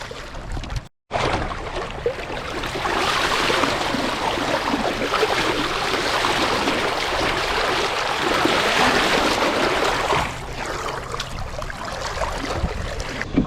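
Steady rush and slosh of water around a moving sailboat, continuous and fairly loud, with wind noise and no voices.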